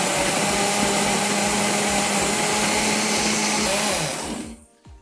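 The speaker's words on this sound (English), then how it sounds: "my blender, which isn't so new anymore, I can't find the top lid" An aging countertop blender without its lid, covered by a cup, whirs loudly while blending an acerola drink, a steady high motor roar that holds then winds down and stops near the end.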